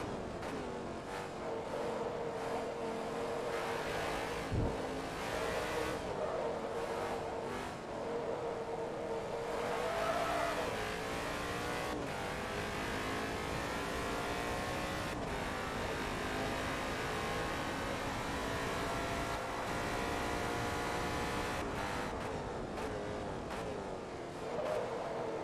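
Race car engine in the Forza Motorsport 2 racing game, a steady sustained drone with shifting engine tones over the whole stretch, revving up and down through gear changes, with no talk over it.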